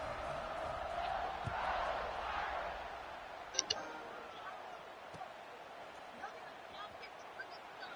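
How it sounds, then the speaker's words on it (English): A football stadium crowd at a college game between UConn and another team keeps up a steady, broad buzz after a long touchdown run, with a commentator talking over the noise and a few sharp clacks breaking through. "this crowd is buzzing after that last score"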